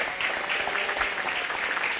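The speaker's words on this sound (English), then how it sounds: "Let's give all these kids a good round of applause." Crowd applause for the children at a 4-H/FFA sheep and little lambs show, a steady, moderately distant patter of many hands for two seconds with no talk.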